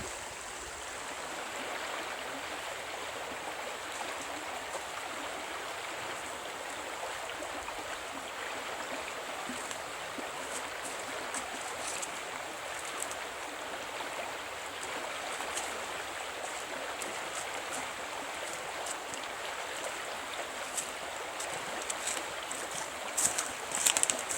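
A woodland creek flowing past its bank, a constant broadband rush and burble of running water that holds steady and fairly soft throughout, with no talk over it.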